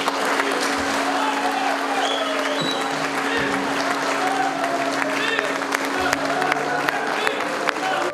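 A hall of delegates gives a sustained, loud ovation as the mufti of Crimea, Hadji Emirali Ablaev, is re-elected, dense steady clapping throughout with voices audible underneath.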